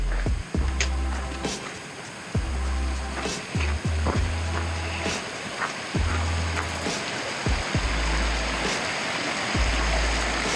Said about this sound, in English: Water coming down all the pebbles.